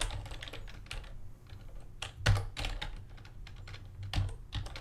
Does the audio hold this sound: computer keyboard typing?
yes